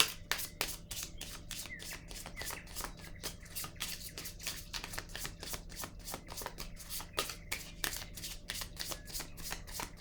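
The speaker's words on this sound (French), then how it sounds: "je vais piger une autre carte ici" Playing cards are drawn and shuffled up close, making a rapid run of crisp, evenly spaced flicks and riffles that carries on for the whole stretch.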